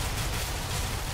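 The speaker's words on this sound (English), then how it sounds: "Fire out a couple shots." Pistol fire in Counter-Strike: Global Offensive, a dense run of loud, close gunshots with booming low end filling the whole short stretch, no pauses or voices.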